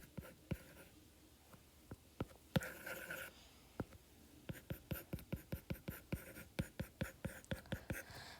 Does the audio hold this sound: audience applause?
no